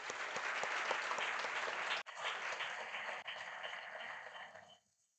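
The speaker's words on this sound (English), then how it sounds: "Let us give them a huge round of applause." Audience applause for trainers and management at a college English class event, steady dense clapping throughout that breaks off briefly twice, then fades out at the end.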